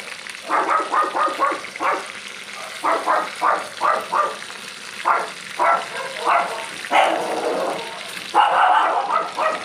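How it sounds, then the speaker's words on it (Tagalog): Pet dogs bark repeatedly in short, loud bursts, several barks in quick succession, then pausing briefly and starting again, close by. "Nag-iingay na naman ang aking mga doggy."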